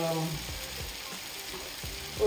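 Akara bean batter fries in a deep pool of palm or olive oil, producing a steady, loud, close sizzle and bubbling that continues throughout without any voices.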